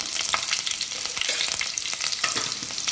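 Cut green chillies fry in hot oil with bay leaf while being stirred in a pan for layered biryani, giving a steady loud crackling sizzle with scraping stirs, close up and without talk.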